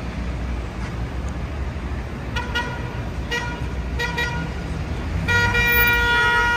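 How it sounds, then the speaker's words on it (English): Car horns honk in New York City street traffic near Trump Tower: several short toots, then a longer sustained blast at the end, over a steady roar of traffic. "Everybody loves to honk their horn."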